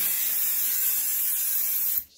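Ryobi compressed air duster blowing a steady, loud hiss of air to clean PC equipment, one continuous burst that cuts off abruptly near the end.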